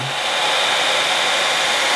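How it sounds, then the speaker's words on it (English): A hair dryer blowing steadily on thin paint in a glazing color-blend technique, a loud, constant whirring hiss with no break over two seconds. "Since you're working with really thin paint, you can use an air dryer and go in"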